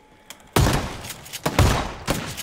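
Heavy gunfire from a video game firearm, three loud booming shots spaced unevenly over a couple of seconds, each with a broad crack and rumbling tail, close and without talk.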